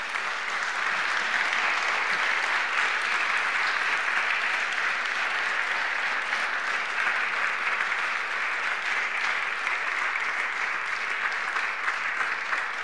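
A lecture hall audience at a public evening medical lecture gives long, even, sustained applause, a dense unbroken clatter of many hands at moderate distance with no speech.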